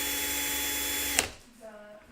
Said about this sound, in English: I'm going to take my drill and I'm going to drill a hole right here.